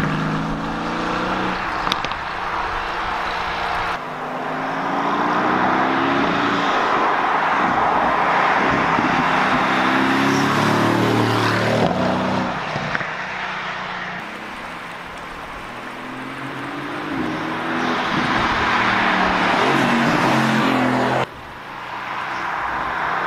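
A modified Mercedes-AMG GT S drives out of a small town toward the mountains, its engine note climbing and falling through several gear changes under steady road and wind noise.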